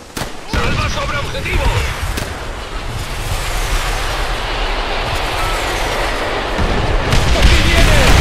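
A loud blast in the video game Call of Duty opens into a sustained roaring rumble that keeps building, with a sharper crack near the end.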